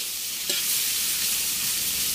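Shrimp frying for shrimp teriyaki, a steady close hissing sizzle with a soft stirring clatter near the start, no voices.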